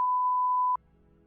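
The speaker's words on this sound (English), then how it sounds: "For safety's sake, I'm gonna bleep that." A steady pure-tone censor bleep sounds loudly for under a second, then cuts off abruptly into a low, muffled background hum.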